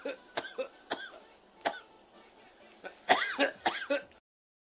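A person coughs and clears their throat in several short bursts, a few isolated hacks early on, then a denser cluster of harsher coughs near the end, close to the microphone and otherwise quiet.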